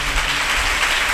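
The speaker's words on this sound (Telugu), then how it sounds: "గట్టిగా చప్పట్లు కొట్టండి" A church congregation at Sunday worship claps loudly and continuously, a dense wash of many hands with no voices on top.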